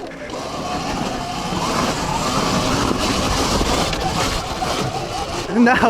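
Surron Ultra Bee electric dirtbike climbing a hill over sandy ground, a steady close drivetrain whine and rumble with wind noise throughout, swelling briefly near the end, with voices talking over it.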